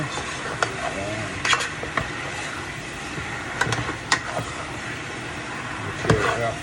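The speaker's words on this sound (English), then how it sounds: "You have to keep stirring it guys, so it don't stick to the pot." Jamaican curry chicken is stirred in a pot, with a soft continuous simmer broken by scattered spoon scrapes and knocks against the pot, a few of them sharper and louder.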